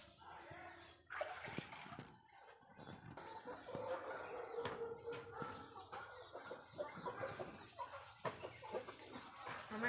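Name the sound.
chickens clucking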